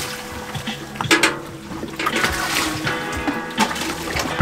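Water pours and splashes into a container aboard a sailboat, a steady liquid rush with a few louder splashes and boat creaks, close by, with brief voices in the background.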